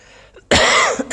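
A single sharp, loud cough bursts out close to the microphone after a moment of near silence, followed by a short catch of breath.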